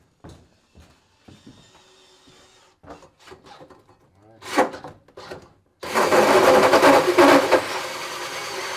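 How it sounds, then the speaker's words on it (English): A drill bores into an equipment trailer. Voices and scattered clanks come first, then the drill starts suddenly with a loud, continuous, gritty whir that runs close-up for about three seconds. "Okay, drill it."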